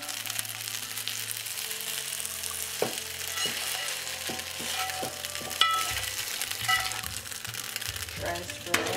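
Vegetarian noodles pan-fried to golden brown sizzle steadily in a pan, a continuous frying hiss with a few scraping clicks of a utensil, while a voice talks over it.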